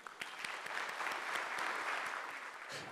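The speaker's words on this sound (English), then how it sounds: "Big round of applause to get it going." A large audience at a healthcare artificial intelligence conference breaks into sustained applause, a dense continuous patter of many hands with a few sharper individual claps standing out.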